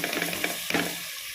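Ginger garlic paste hits a pan of sautéed onions with a soft sizzle and a few stirring scrapes, quiet and brief with no voice over it.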